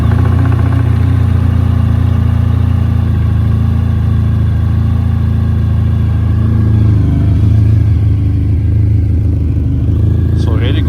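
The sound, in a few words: Honda VFR1200X engine idling with Yoshimura RS3 exhaust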